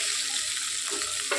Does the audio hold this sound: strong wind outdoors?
no